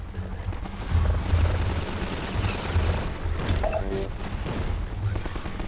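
Gunfire in the Half-Life 2 Riot Act mod: a dense, continuous clatter of game shots and booming impacts fills the stretch, with a player's voice speaking over it.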